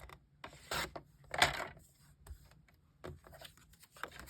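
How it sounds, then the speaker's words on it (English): Card stock for a zig zag z-fold card being trimmed about an eighth of an inch on a paper trimmer, a few short close rasping slides and soft clicks separated by quiet gaps. "I flip this around and I trim off about 1/8 of an inch"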